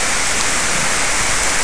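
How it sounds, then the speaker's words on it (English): Heavy rain pours outside as a dense, steady roar of broadband hiss, loud and unbroken, with no voices over it. "It's raining a lot out there right now."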